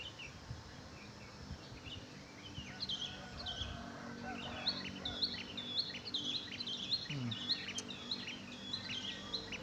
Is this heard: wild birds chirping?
yes